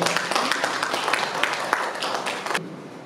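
Audience applause at a launch ceremony of an NGO programme in Gabon, a dense burst of many hands clapping close and loud for about two and a half seconds, then cutting off abruptly.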